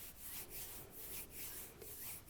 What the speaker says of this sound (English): Just rub your palms together for a moment here.